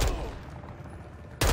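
A stun grenade goes off in the Warzone 2 video game with a sharp, loud burst that rings and fades for about a second. A second heavy blast hits abruptly near the end.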